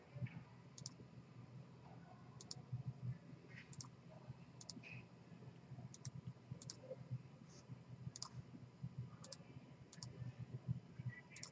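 Computer mouse clicks while working in Autodesk Inventor, faint crisp single clicks at irregular intervals of about a second over a low steady hum.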